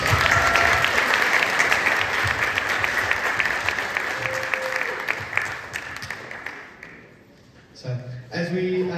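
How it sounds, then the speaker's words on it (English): Audience applause for a 7th grade percussion ensemble at a high school percussion night, dense sustained clapping that gradually thins and fades, with voices and sounds emerging near the end. "We'll give them one more round of applause."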